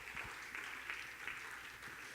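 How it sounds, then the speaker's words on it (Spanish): A church congregation clapping together in praise, a steady, moderately faint applause with regular rhythmic peaks, continuous throughout. "Aplaude a Jesús."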